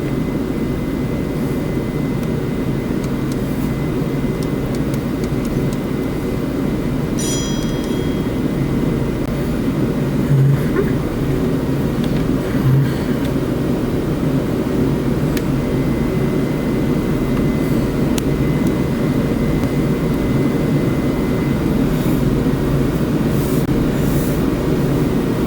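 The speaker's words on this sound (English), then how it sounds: "All engines idle." Aircraft engines idle in Microsoft Flight Simulator 2020, a steady, loud, low droning hum with a faint whine above it, unbroken for the whole stretch, with a few small clicks now and then.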